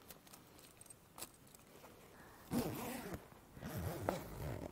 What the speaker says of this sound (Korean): 앞문의 스킨은요, 이렇게 이중 지퍼로 되어 있어요.